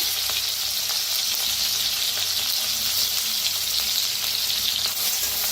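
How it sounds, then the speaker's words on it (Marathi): A crushed paste of green chili, garlic and cumin sizzles in hot oil, making a loud, continuous close-up frying hiss with faint stirring, and no one speaks. "आता तेल चांगलं गरम झालेलं आहे, वाटण टाकूया जे आपण हिरवी मिरची, लसूण, जिरं चेचलेलं।"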